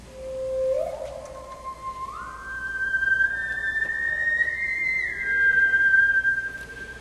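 An ondes Martenot played with its ring gives a pure, whistle-like tone that glides and steps upward in pitch over several seconds, moderately loud and alone against a faint background hiss.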